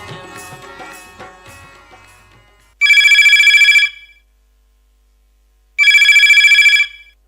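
A telephone rings for a radio phone-in programme, sounding two loud, bright bursts of electronic ringing about three seconds apart, each lasting roughly a second, after a faint musical lead-in.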